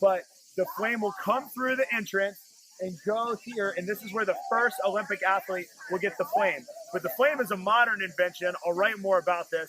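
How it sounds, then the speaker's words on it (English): Cicadas in the Mediterranean at Ancient Olympia, a steady high hissing drone heard throughout under someone speaking close by. "That noise you hear in the background is not bad filming. It's actually bugs called cicadas who live here in the Mediterranean."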